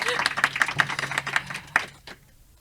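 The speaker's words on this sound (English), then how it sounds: "Let's get an applause from the audience." A small live audience at Berlin Podfest 2023 breaks into sparse, crisp hand claps, about a dozen quick claps over two seconds that thin out and fade to near silence.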